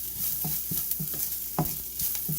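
Spices with red chili powder sizzle in a pan, frying steadily while a utensil stirs with repeated soft scraping clicks, and no voices are heard.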